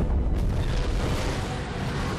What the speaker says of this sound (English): Oh, all the missiles got destroyed.